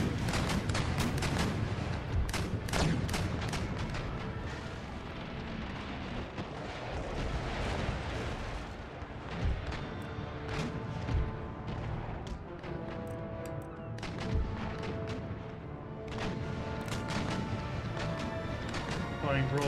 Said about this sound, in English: Firing broadside right into Inga